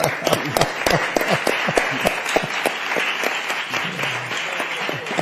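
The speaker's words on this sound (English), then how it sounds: "I would like us to applaud" Audience applause in a hall during an art conversation at the Alhambra: a dense, steady wash of many hands clapping, loud and full, with a few sharper claps near the front and a brief voice near the end.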